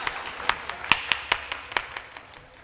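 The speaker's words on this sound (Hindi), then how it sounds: "ताली बजाइए" An audience at a stage event claps in a loose, steady rhythm of sharp, fairly close claps for a couple of seconds, with no talking over it.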